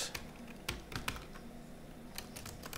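Typing on a computer keyboard while coding in Android Studio, faint scattered key clicks with a few sharper taps and short bursts, close and quiet.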